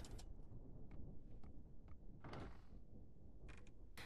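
Door sounds in the horror video game Silver Chains, a faint sliding rumble with a few soft knocks and thunks over a quiet low background.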